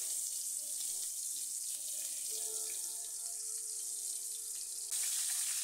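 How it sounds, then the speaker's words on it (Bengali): A fish head frying in hot oil, giving a steady, close hiss and sizzle that holds throughout, with no talking. "মাছের মাথার এপাশ ওপাশ করে ভালো করে ভেজে নিতে হবে।"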